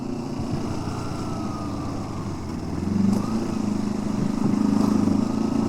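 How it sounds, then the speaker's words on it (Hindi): A motorcycle on a winding mountain road in the Leepa Valley, its engine droning steadily and swelling louder midway as it draws nearer, heard from a rider's helmet over constant road and wind noise. "मोटरसाइकिल आ रही है"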